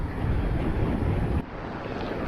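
Wind gusting in Šempeter pri Gorici, a rushing roar buffeting the microphone that drops abruptly partway through to a softer, steadier blow.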